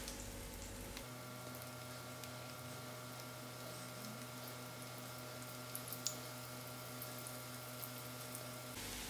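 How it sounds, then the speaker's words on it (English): Banana kebab balls shallow frying in oil, giving a steady, low, even sizzle that runs throughout with a constant hum alongside and a couple of small pops near the middle. "this into the oil just to fry on the outside"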